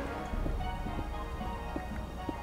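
A horse gallops in Minecraft with a quick, rapid clip-clop of hooves at moderate volume and no talking.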